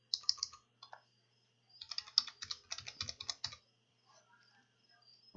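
Close, quiet clicking of a computer keyboard as a product ID is entered, several short flurries of keystrokes separated by pauses, with no talking.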